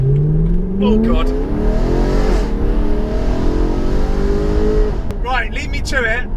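A Ferrari 360 Challenge Stradale engine revs hard and close, pitch climbing then dropping through quick downshifts with sharp blips near the end, loud and continuous.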